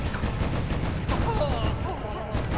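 Fireworks in the video game Silksong burst in a rapid, loud crackling volley, one pop overlapping the next like a string of shots, with no talking over them.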